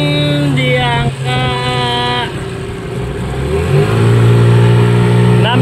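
A boxy Yamaha engine in used condition runs on a test, climbing through a couple of revving bursts before settling into a steady, louder idle, with no voices over it.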